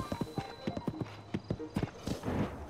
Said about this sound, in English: Good job, horsey.